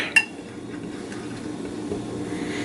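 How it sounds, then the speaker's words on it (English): A whisk works through beer batter in a bowl, starting with one clink against the side and then giving way to a soft, steady stirring swish up close, with no voices. "Then we'll whisk."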